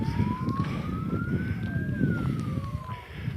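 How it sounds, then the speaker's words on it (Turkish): A fire engine siren wails in one slow rising and falling sweep over steady traffic rumble at a neighborhood fire caused by sparks from an electrical transformer, moderately distant, with no voices. "bir itfaiye daha geldi"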